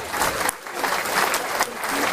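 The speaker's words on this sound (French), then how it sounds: "Applaudissements pour lui," A live audience at a French comedy or variety show applauds a volunteer after a rope and handcuffs stunt, producing dense, continuous clapping that fills the room for a couple of seconds.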